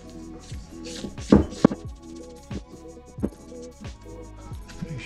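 Cookie dough is stirred by hand in a bowl, making repeated scraping and knocking strokes at an uneven rhythm. Light music plays throughout and no one speaks.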